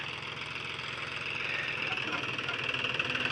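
A tractor's diesel engine idles nearby with a steady, rapid knocking chug under a continuous mechanical hum.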